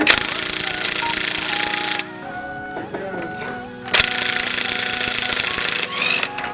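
A Ryobi cordless impact wrench removes an axle nut during an engine pull on a Honda EK with a D16Y7: two loud, sustained hammering bursts separated by a quieter pause with faint clinks and talk.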